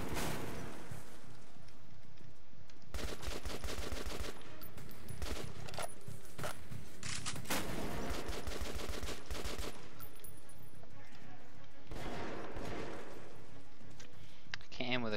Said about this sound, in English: I can't aim with a shotgun, this is great.